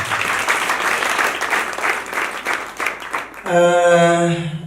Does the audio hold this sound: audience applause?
yes